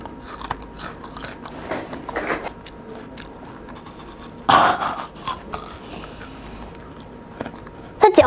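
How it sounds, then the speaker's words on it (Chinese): Crisp bites and chewing of a raw, fibrous, juicy root vegetable from Guangxi, eaten raw like jicama, with a few sharp crunches at the start, a loud bite midway and another near the end, close to the microphone. "嚼起来是那种脆脆的"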